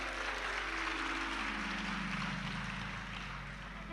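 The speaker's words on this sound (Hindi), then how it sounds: "ताली बजाने से कुछ नहीं होगा" Dense, steady applause from a large audience at a Shiva Mahapurana katha, a Hindu religious discourse. It sounds continuous and close, with no talking over it, and fades slightly toward the end.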